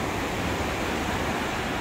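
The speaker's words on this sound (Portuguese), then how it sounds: "Esse barulho de mar acalma, gente." Steady sea surf washes onto an island shore on a cloudy late afternoon, a continuous broadband wash with no distinct breaks, fairly soft and unbroken by voices.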